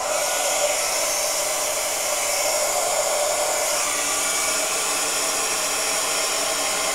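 A heat gun blows steadily to melt embossing powder, a loud, even airy whir that holds unchanged at close range and runs alone throughout.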